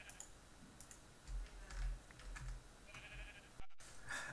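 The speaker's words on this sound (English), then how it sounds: "Got some sheep." Sheep in the Minecraft video game bleat in a few short, soft calls scattered through the clip, mixed with light clicking and tapping noises.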